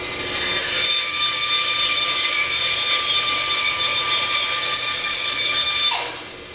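A bandsaw cuts through a piece of wood with a loud, continuous, raspy sawing hiss and a high blade whine for about six seconds, then the cut ends and the noise drops away.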